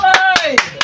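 Four sharp hand claps ring out at an even, quick pace, close and loud, laid over a sustained voice that keeps going beneath them.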